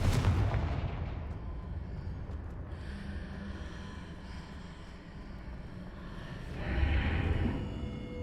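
A Confringo spell explodes in the video game Hogwarts Legacy, a loud blast that trails into a long rumbling decay, followed by a second heavy boom near the end.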